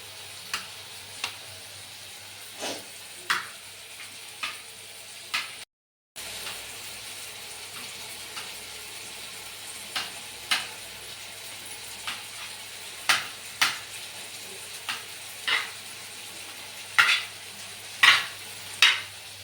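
Egg keema masala curry is stirred in a pan, with a spoon scraping and tapping in regular strokes over a faint background hum, each stroke fairly distinct and close, with one brief silent gap.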